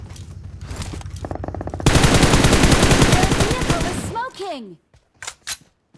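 An MK rifle sprays automatic fire in PUBG Mobile. It is a loud, rapid stream of shots that builds into a dense, sustained burst, then breaks off into a few scattered bangs and fades out.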